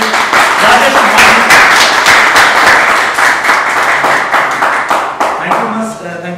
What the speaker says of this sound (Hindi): प्लीज जोरदार तालियों से स्वागत करें